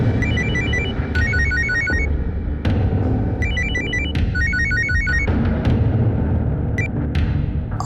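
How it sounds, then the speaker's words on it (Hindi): A telephone rings in repeated trilling bursts with pauses between, loud and close over a constant background hum. "उसका फोन स्विच ऑफ आ रहा है, मैं सुधीर को करता हूँ।"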